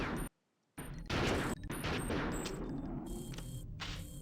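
Loud, dense bursts of video game gunfire as spikes are shot, packed rapid blasts broken by brief abrupt silences.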